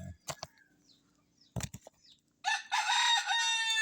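Chickens nearby, with a few sharp scratching or pecking knocks and wing flaps, then a loud, sustained crowing call at the end.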